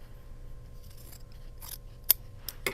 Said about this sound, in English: You're going to trim that excess fabric off at 1/4 inch.